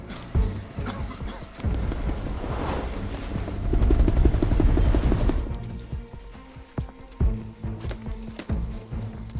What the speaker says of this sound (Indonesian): Lalu secara bersamaan datang helikopter yang melemparkan sebuah tas berisi makanan dan pisau di dekat Creston.